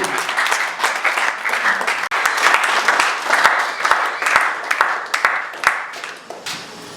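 A church congregation applauds warmly after a sermon, with dense, sustained clapping from many hands filling the room. A few voices rise faintly beneath it.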